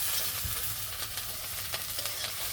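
Spices sizzling in oil in a pan over a village cooking fire, a steady close frying hiss with occasional stirring scrapes, no voices.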